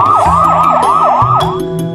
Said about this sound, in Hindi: पूरे रोड पर पुलिस के सायरन जोर जोर से बजने लगे।